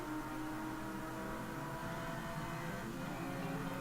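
A car engine in Gran Turismo 3 holds a steady, droning rev at moderate level, with a continuous hum and no breaks.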